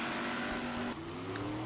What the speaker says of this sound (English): here we see the car in action at the 1962 National Drag Races